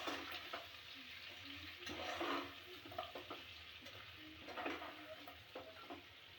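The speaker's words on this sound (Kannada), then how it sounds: "ಇಷ್ಟು ಮಸಾಲೆ ಹಾಕೊಂಡು ಮಿಕ್ಸ್ ಮಾಡ್ಕೊಳ್ಳೋಣ" Spoon stirring garam masala and ground spices in a hot pan for white chicken curry, soft continuous sizzling with scraping strokes and light clinks, alone and fairly close.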